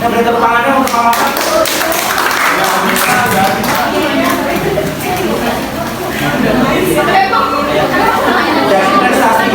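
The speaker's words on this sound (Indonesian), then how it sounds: "Kita beri tepuk tangannya untuk Kak Marta." A classroom audience claps for Kak Marta, a steady dense patter of many hands sustained throughout, mixed with murmuring chatter from the students.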